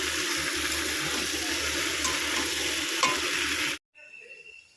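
Chilli chicken pieces frying in a pan give a busy, close sizzle with stirring scrapes. The sound runs steadily, then cuts off abruptly near the end, leaving faint quieter sound.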